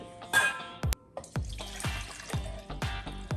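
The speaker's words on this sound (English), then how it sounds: "Goes in 1 cup of plain water times 3." Plain water poured into vegan carob cake batter, with several short splashy pours and clinks of a cup against a bowl, close and fairly loud with no talking.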